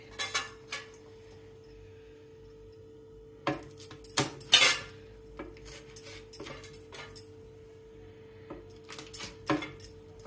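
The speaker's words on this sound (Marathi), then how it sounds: "आता ह्या मी मिरच्या अशा उभ्या चिरून घेणार आहे." A knife on a cutting board slitting green chillies lengthwise for mirchi bajji, giving scattered sharp taps and clicks in uneven bursts, close and fairly quiet, and no talking.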